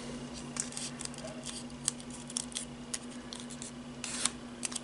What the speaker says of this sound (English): now let's fold this stick in half.